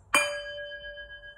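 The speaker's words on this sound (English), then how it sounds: "Today I'm going to use my Tibetan bowl again." A Tibetan singing bowl struck once, giving a bright metallic strike followed by a clear, sustained ringing tone of several steady overtones that lingers softly.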